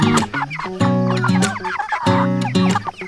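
Cornish cross chickens cluck and squawk in a busy, overlapping chorus, close and loud, with short bursts and rising calls throughout.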